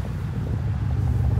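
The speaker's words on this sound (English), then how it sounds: "I'll let you hear the exhaust as well." Stock 2015 Chevrolet Camaro SS exhaust giving off a deep, steady low rumble up close, a continuous throaty burble that swells slightly toward the end, with no talking.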